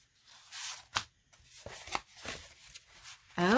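Paper party invitation envelopes being handled: soft, close rustling and crinkling in short bursts, with a faint voice in the background.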